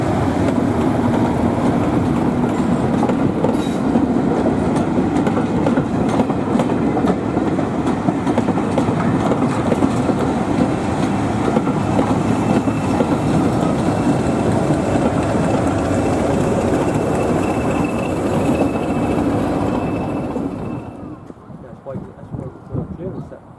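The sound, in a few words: Class 37 diesel locomotive train running on heritage railway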